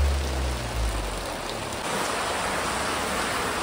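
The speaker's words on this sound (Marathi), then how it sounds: "पाऊस पण जाम जोरात आलाय." Heavy rain pouring down steadily outdoors during a Ganpati festival outing, a dense continuous hiss close by, heard alone with a low rumble at the start.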